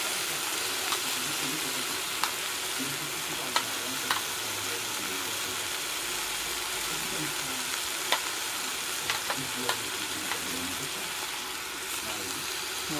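Pig ear cartilage pieces fry in a pot with a steady, dense sizzle and crackle throughout, broken by occasional sharp pops and stirring clicks, while a person speaks quietly now and then.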